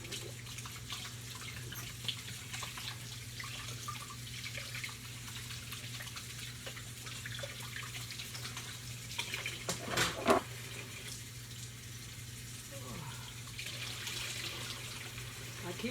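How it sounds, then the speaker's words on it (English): Hot dishwater runs steadily from a kitchen tap, a low continuous hiss and splash at moderate distance, with a brief louder gush of water near the middle. "I keep my dishwater running too. I keep my dishwater, hot water."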